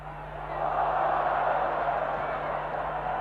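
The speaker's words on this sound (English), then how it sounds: "down he goes to the applause of the crowd" Rugby league crowd at a 1980 Queensland versus New South Wales State of Origin match, applause and cheering rising into a broad, steady roar that fills the stadium and holds throughout, with a low mains hum beneath.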